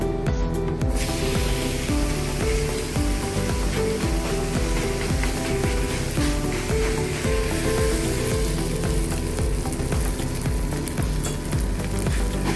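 Rice thalipeeth, brushed with oil, sizzles steadily on a hot griddle (tava). A continuous close frying hiss lasts the whole stretch over a constant rhythmic tonal background, with no one speaking.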